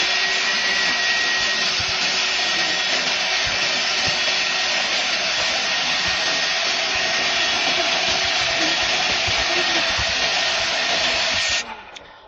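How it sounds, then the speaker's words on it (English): A Ryobi 18-Volt ONE+ 6-gallon cordless wet/dry vacuum running, a loud steady close roar that holds for about eleven seconds and then cuts off abruptly. "I'll go ahead and use this to vacuum the rest of this thing."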